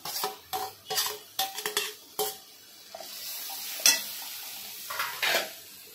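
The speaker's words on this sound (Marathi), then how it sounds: "आता आपण आहे ना हे स्मॅश केलेलं वांग आहे ना हे पण टाकून घेऊया।" Smashed eggplant is stirred into a spice paste frying in a pan for green-chilli vangyache bharit, with a quick run of loud scraping strokes followed by a softer sizzle and a few more scrapes, all close up and with no talk.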